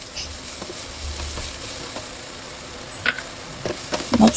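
Garlic and onion frying in a pan, a faint, steady sizzle with a few soft clicks and stirring taps near the end, no voices.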